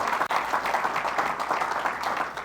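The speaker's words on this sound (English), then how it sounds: "Let's give him a round of applause" An audience claps together in a steady, dense round of applause that holds even and full for a couple of seconds.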